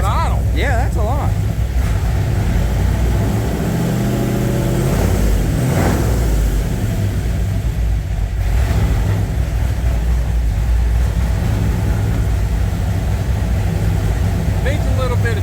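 A 6.0 engine swapped into an OBS truck idles loudly and steadily up close, with a revving surge partway through and people talking over the rumble.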